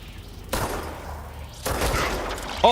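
Gunfire in the video game Control: two sustained bursts of loud, rapid shooting, the second longer, with a brief voice at the very end.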